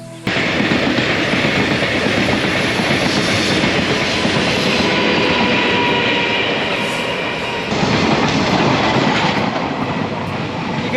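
A train runs past on a railway line in Yilan County, Taiwan, a loud, steady roar and rumble of wheels on track that holds for the whole stretch, swelling slightly near the end.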